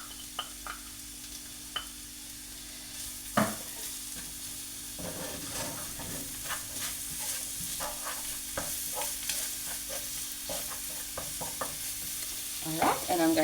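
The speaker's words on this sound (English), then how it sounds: "And hear the nice sizzle there." Onion and garlic sizzle steadily in hot oil, with occasional clicks and scrapes of a spoon stirring the pan; no talking.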